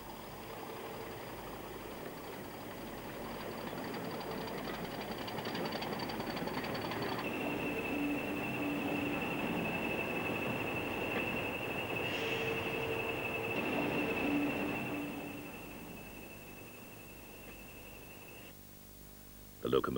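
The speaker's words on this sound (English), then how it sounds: "An Aberdeen train arrives at Montrose in the summer of 1961." An Aberdeen train draws into Montrose station in 1961, a rumbling approach that swells with a long sustained whistle-like tone and brief squeals, then fades as it slows, with a sharp knock at the end.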